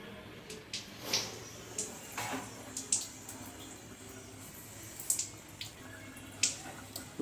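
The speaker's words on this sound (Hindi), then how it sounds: "इसके आउट में देखो पानी बूंद बूंद करके आ रहा है" Water from the outlet of an RO water purifier filter falls drop by drop, producing sparse, irregular plinks close by over a faint background hiss.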